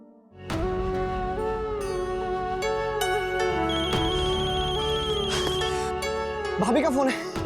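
A mobile phone rings with an incoming call, a loud melodic ringtone with sustained tones playing continuously alongside background music and voices.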